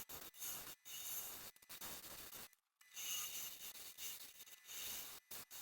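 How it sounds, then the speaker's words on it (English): Cedar wood being hollowed on a lathe, a steady rasping scrape of the tool cutting the spinning wood, broken by short pauses and one longer stop near the middle, close and fairly loud. "Bit more hollowing to go"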